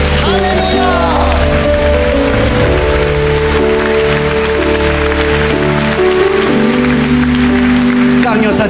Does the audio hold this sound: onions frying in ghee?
no